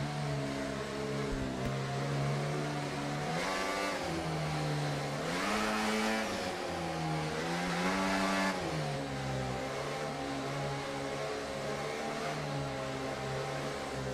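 Open-wheel F4 race car engines in the F1 24 game at the Austrian circuit, a steady high-pitched drone with several rising and falling rev sweeps as cars pass, loud and continuous with no talking.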